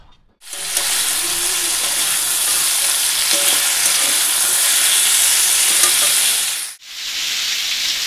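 A curry of drumstick, potato and pointed gourd sizzles steadily in a pan, producing a loud, close, continuous hiss that holds evenly and then drops off briefly near the end before resuming.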